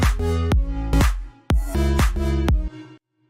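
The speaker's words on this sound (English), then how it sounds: "next thing I want to show you actually is this little reverb effect." Future house chords and a lead line washed in a short, bright reverb play rhythmic stabs, each hit ending in a brief reverberant tail, with a pause before a final note.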